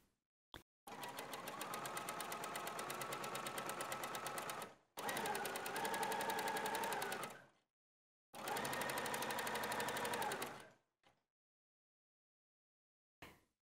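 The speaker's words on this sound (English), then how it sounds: "Machine a nice straight seam as this is the all-important coat front." A sewing machine stitches a long coat front seam in three sustained, rapid runs of even buzzing, separated by short pauses, with a few isolated clicks at the start and end.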